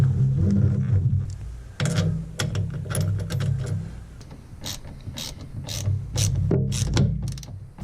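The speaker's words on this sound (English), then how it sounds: "So I'll tighten that one up now and put the idler wheel back in." Rapid ratchet clicking while tightening the idler wheel nut on a Ski-Doo Skandic 900 Ace snowmobile, close and clear, in several quick bursts of pawl clicks separated by short pauses.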